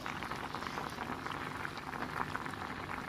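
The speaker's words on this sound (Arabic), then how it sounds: "هانتوما انا دابا كنسلق اللوز" Almonds simmer in a pot of water, giving a steady, gentle bubbling and crackle of boiling liquid, soft and close, with no one talking.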